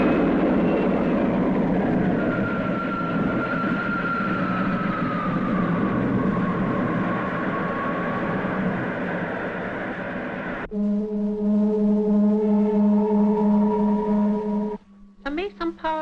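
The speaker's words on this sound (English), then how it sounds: "Ready to lift. Takeoff program starting now." A sci-fi spaceship lifts off with a loud, sustained low rumble and a sliding tonal whine, cutting abruptly into a steady mechanical hum with a harsher buzzing tone near the end.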